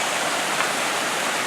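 Little waterfalls along a rocky edge at Potato River Falls pour into a rock pool, a steady, loud, broadband rushing of falling water with no pauses and no voices.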